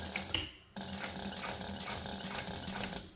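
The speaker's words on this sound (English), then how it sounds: "I'm going to sew all the way across the top and then I'll back stitch all the way across again." A sewing machine stitches across thick webbing at the top of a crossbody bag, running in a few steady mechanical bursts with a short pause near the start, close and fairly loud, with no voices.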